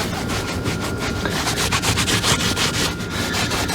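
A microfiber towel is rubbed over dirty leather in quick back-and-forth strokes, a close, rhythmic scrubbing swish repeating several times a second.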